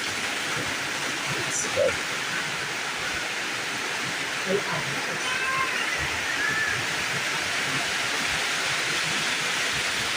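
Steady rain falling outdoors over a home solar panel setup, a dense even hiss throughout, with a voice speaking briefly over it and a few faint knocks.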